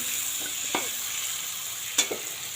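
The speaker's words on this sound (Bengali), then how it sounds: "এটা একটু ভাজা ভাজা করে নেব" Small river fish frying in hot oil with slit green chillies give a steady soft sizzle, broken by a couple of sharp spattering pops, with no talking.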